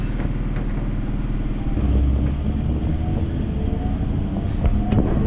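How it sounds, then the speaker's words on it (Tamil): A Chennai MRTS suburban train at Light House station gives off a loud, continuous low rumble with steady rail and carriage noise and no voices. "இப்போ train நிற்கிறதாங்க light house railway station"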